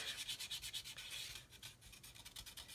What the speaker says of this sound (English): in a minute we will finish sanding